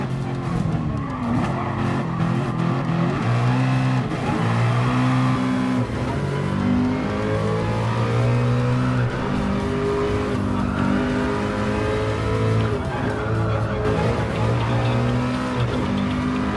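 GT4 race cars in the video game Gran Turismo Sport roar continuously, engines revving up and down through gear changes while tires squeal through corners, with no talking.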